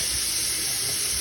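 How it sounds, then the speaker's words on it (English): A water tap turned on and running, a steady hissing flow close by, level and continuous throughout with no talk. "I'm gonna turn the water on"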